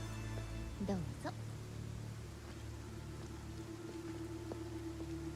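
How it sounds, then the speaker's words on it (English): Steady rain falls in the Ninja Gaiden 4 video game, a constant soft hiss of drops over a low hum. A few faint chirps and blips rise above it. "But it's raining though"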